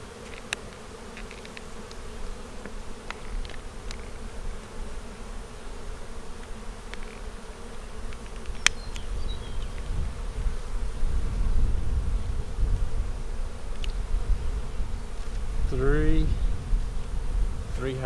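Honey bees buzz steadily around an open beehive during an inspection of a split colony, a dense, close insect drone with individual bees whining past the listener, plus light handling knocks.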